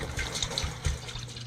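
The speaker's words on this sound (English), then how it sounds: "That's the water we're going to need for the beer" Water for brewing a pina colada New England pale ale runs and splashes steadily, a close, continuous gushing trickle with small bubbling surges and no voices.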